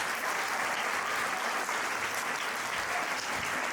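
Warm audience applause for students of a named school, a dense, steady wash of many hands clapping at close range that holds without pause throughout.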